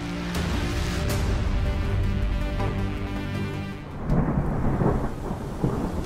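Heavy rain pours steadily during the 2023 Dakar Rally while deep thunder rumbles and rolls, with a few sharper cracks standing out above the downpour.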